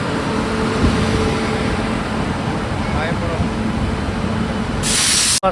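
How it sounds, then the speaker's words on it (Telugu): A Garib Rath Express with a WAP-7 electric locomotive arriving, giving off a loud, steady rushing roar of train noise and wind from start to finish, with a voice speaking briefly over it. "గరీబ్ రథ్ ఎక్స్ప్రెస్ ట్రైన్ అయితే వస్తుంది"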